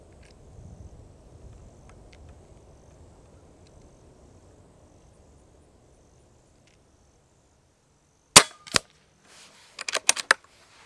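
Hatsan Flash Pup .22 air rifle firing: two sharp, close cracks followed by a quick cluster of further snappy shots, after a long stretch of faint outdoor hum.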